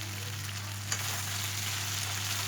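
Chicken pieces frying in a pan with crushed ginger, garlic and two chillies, a steady close sizzle running evenly throughout with one brief stir or clack.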